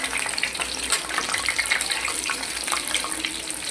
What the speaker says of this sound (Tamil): எண்ணெய் காஞ்சிச்சு, மீடியம் ஃப்ளேமில் வச்சுட்டு பொரிச்சு எடுத்துக்கலாம்